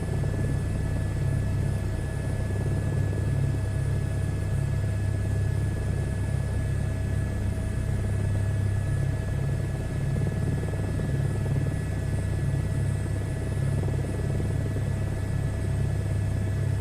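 A helicopter flies over the UK near London's Tower 42 in Microsoft Flight Simulator 2024, giving a steady, loud rotor and engine drone with low rumble that holds unchanged throughout.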